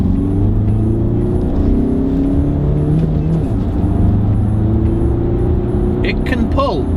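A 2019 Skoda Kodiaq 4x4 driving in sport mode on the road: a steady, loud cabin rumble of engine and tyre noise that holds evenly throughout, with a brief higher sound near the end.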